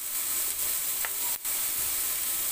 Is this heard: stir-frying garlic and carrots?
yes